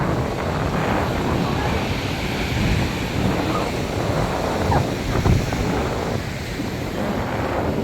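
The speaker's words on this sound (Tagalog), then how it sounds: "Lakas ng alon." Strong ocean waves break steadily on a beach at a seafront in Batangas, a continuous loud wash of surf mixed with wind buffeting the microphone.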